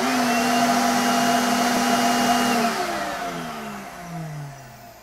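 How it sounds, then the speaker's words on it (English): A FoxAlien CNC router spindle and its shop vacuum run together with a loud, steady high whine and rushing airflow, then shut off and wind down with falling pitch. "the vacuum and the spindle should kick in together and then cut off shortly after"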